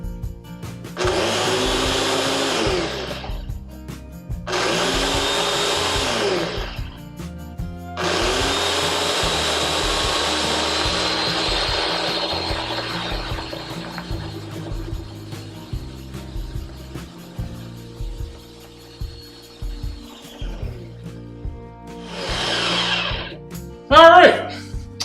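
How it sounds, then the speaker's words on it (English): A kitchen blender on its smoothie setting whirs through watermelon in bursts, with several short pulses, a long steady run, then a final brief spin. Throughout, a steady rhythmic music-like thumping plays underneath. "this blender has a smoothie setting on it"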